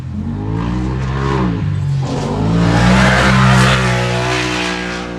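An off-road race vehicle in a desert race roars past at close range, its engine note rising and swelling as it approaches, then holding loud and droning as it passes, with no speech.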